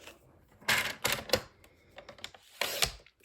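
Cardstock sliced on a paper cutter for a card-making project: a few short, crisp cutting strokes and rasping blade passes, close and fairly loud, separated by quiet pauses.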